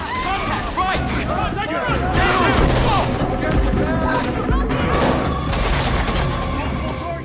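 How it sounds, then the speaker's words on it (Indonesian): Rapid bursts of gunfire in a film shootout crackle amid shouting voices and a dense, chaotic mix of impacts, loud and continuous throughout. "mereka diserang lagi oleh anak buah Jackson hingga terjadi aksi tembak-tembakan."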